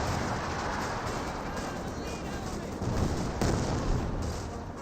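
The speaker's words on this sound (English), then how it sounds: "Pershing firing away." Pershing tank guns firing in a Company of Heroes 2 battle, dense continuous rumble of cannon and gunfire with distant booms layered through a noisy, busy battlefield mix.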